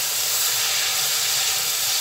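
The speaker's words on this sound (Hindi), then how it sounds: "तो तकरीबन 1 मिनट 2 मिनट तक इसको भूनेंगे" Okra is frying with onions and spices in a pan, making a loud, steady sizzling hiss that stays unbroken from start to finish without any talk.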